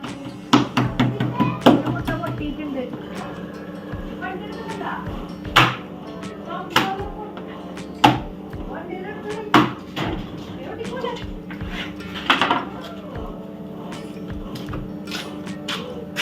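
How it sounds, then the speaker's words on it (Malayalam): Eggs being cracked with care into a bowl: a series of sharp taps and cracks, several in quick succession early and then spaced every couple of seconds, close and distinct over faint kitchen background. "മുട്ട പൊട്ടിക്കാനുള്ള പരാക്രമമാണ് കേട്ടോ കാണിക്കുന്നത്."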